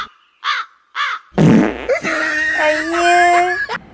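A comic fart sound effect lands in a short Tamil comedy sketch, a loud, close, buzzing blat lasting a couple of seconds, preceded by two short squawky calls and followed by a brief voice.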